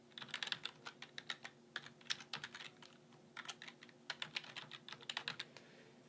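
Fingers type on a computer keyboard while entering payment details, a quick irregular patter of close, light key clicks in bursts with brief pauses between.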